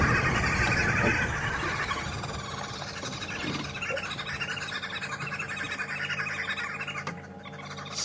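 Several birds call and chirp at once in a dense dawn chorus on a safari drive, steady and fairly close, with layered overlapping songs.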